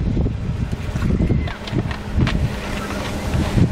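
Strong wind gusts and waves wash at Pamucak beach near Kusadasi, a loud, close, buffeting rush with rolling low surges and wind hitting the microphone.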